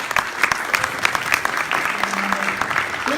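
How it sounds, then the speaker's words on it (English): Crowd at a political rally applauding, dense, lively clapping with sharp individual claps near the front and a brief voice or tone rising near the end. "Big round of applause to Assembly Member Rob Bonta"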